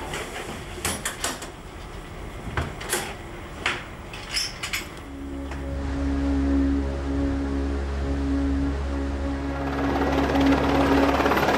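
A helicopter in a sea rescue operation: a few sharp clicks and knocks come first, then a steady, droning rotor and engine hum builds and holds loudly to the end.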